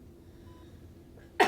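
A patient's single big cough, bursting out at the end after quiet breathing during a cardiorespiratory physiotherapy session; one loud, close, abrupt burst.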